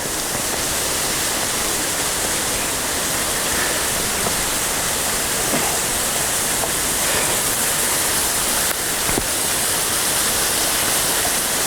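Banyumala waterfall in Bali roars with a steady, dense rush of falling water, loud and continuous throughout with no pauses, broken only by a few faint clicks and knocks close to the recorder.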